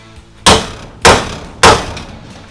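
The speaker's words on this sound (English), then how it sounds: "get my handy dandy hammer here and go ahead and hammer in this first nail" Three loud, evenly spaced hammer blows drive a nail while a recessed light is mounted to ceiling framing during a garage conversion. Each strike rings sharply, then decays quickly.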